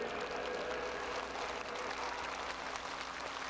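A large crowd applauds as Pope John Paul II enters a beatification ceremony, with steady, dense clapping that holds at an even level throughout, no voices standing out.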